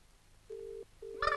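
Two short electronic telephone ring tones sound in quick succession, followed by a brief burst of a brighter tone at the end.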